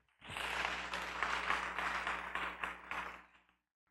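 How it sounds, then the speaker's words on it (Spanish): Applause during a Spanish-language church service, a burst of many hands clapping that rises quickly, holds steady for about three seconds, then stops abruptly. "Dale un fuerte aplauso al Señor."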